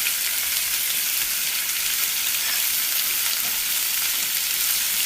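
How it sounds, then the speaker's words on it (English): Tomato and eggs stir-fry in a hot pan, giving a continuous bright sizzle with soft stirring scrapes. The sound is steady and close throughout, with no talking. "Slowly stir fry."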